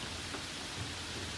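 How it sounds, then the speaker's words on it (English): Steady rain falls on a concrete terrace and metal guardrails, a continuous soft hiss of drops close by, with no voices. "Drops of water hiss and sigh on concrete and guardrails alike."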